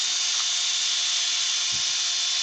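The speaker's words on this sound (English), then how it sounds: "my battery combi drill." A battery combi drill whirring at a constant high pitch, steady and close, with a faint knock or two underneath and no talking.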